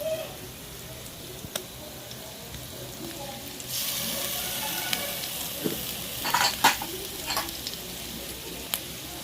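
Garlic paste and masala fry in a pan for a dhaba-style egg tadka, a steady broadband sizzle punctuated by sharp spatula scrapes and clinks, louder bursts of spitting oil midway, with no talk.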